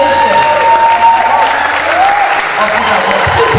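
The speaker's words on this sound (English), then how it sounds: "Please put your hands together to celebrate her very well. Keep clapping until she gets to the microphone." An audience at a College of Medicine conference closing ceremony claps steadily and loudly, sustained applause filling the hall while a voice talks faintly over it.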